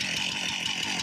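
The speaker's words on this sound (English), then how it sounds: "If the chainsaw's been idling while it's in the up position, it always seems to load up a little bit." A chainsaw engine mounted on a homemade firewood processor runs steadily, a loud, buzzing two-stroke drone with slight rhythmic pulsing, close and alone without talk.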